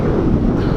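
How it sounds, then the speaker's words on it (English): Strong wind gusting at a beach by the ocean, a dense rumbling buffet against the microphone, brief and continuous with no voices. "It's so windy."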